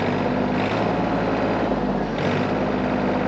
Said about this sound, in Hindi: 2000 आरपीएम पर मैंने ट्रैक्टर ये कर लिया